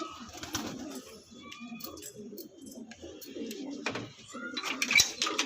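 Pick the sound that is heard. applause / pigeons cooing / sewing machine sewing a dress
pigeons cooing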